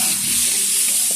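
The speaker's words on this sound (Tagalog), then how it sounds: "Gisahin muna natin to. Yung bawang, okay. Sama na natin yung sili para talagang lutong-luto." Garlic and chili sauté in a pan for Bicol Express, a loud, even sizzling hiss across a short moment, close by and without speech.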